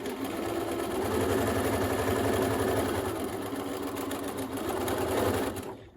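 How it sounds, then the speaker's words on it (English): A sewing machine back stitching through elastic on a DIY fabric face mask, running steadily and loud for about six seconds before stopping abruptly. "back stitching through the elastic"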